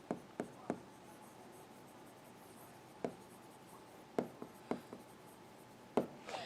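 Chalk or marker writing on a board during a bone histology lecture, a handful of sharp taps and short strokes separated by quiet pauses, close and alone without talk.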